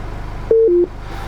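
Inside a Chrysler Grand Voyager 2.8 CRD MPV, the Uconnect voice command system sounds a clean two-note electronic tone, a higher beep stepping down to a lower one, over a low steady background hum.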